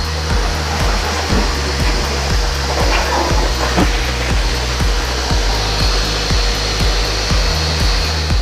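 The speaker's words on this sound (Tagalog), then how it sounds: "tapos na nating patuyuin yung ibang part ng engine bay" A loud blower roars steadily while drying a car engine bay, with a rhythmic pulsing drone throughout, close and continuous with no talk.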